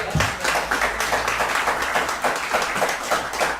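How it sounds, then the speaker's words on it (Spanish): A church congregation applauds together, a dense, sustained patter of many hands clapping that carries on evenly for several seconds. "Un aplauso al Señor"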